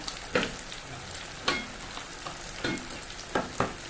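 Jackfruit pieces fry in hot oil with a steady, close sizzle, broken by several sharp bursts of crackling as the pieces are stirred or turned, and no talking.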